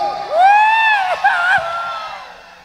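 Voices shout and whoop together in a loud, ringing cry at a community gathering in Aldea Chivarreto, Cuesta del Aire, Guatemala, rising and falling over a few seconds before fading.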